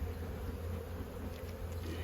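Honey bees hum in a low, continuous buzzing drone around an open beehive during an inspection, faint and steady with no voices.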